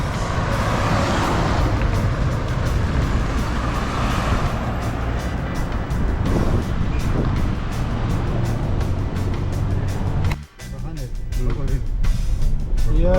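Truck rumbles across a vibrating bridge, a steady low engine and road drone with rattling, a sharp drop near the end, while people talk over it.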